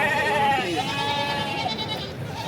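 Goats bleat at the Sangola goat and buck livestock market, with several wavering bleats overlapping close by over a murmur of people talking.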